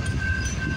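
A Union Pacific freight train with a mid-train Norfolk Southern AC44C6M locomotive rumbles past in West Sacramento, a dense low roar with a faint steady whistle-like tone above.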